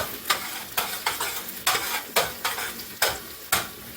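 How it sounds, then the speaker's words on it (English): Onions saute in a pan with a sizzling hiss. About eight quick, evenly spaced scraping strokes of a utensil stand out, each a sharp burst that fades into the steady fry, up close and without any voices. "So we're just going to saute these,"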